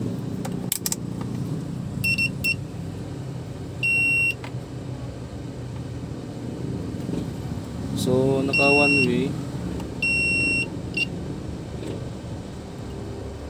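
Short electronic beeps from a continuity tester buzzer sound several times while checking a Xenon Pro XA1240F amplifier for shorts, each a steady half-second tone, with someone talking and small handling noises around them.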